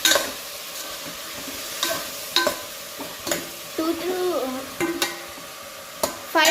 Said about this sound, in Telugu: తర్వాత కొంచెం మిక్సింగ్ చేసుకోండి, బాగా అంతా కలుసుకోవాలి.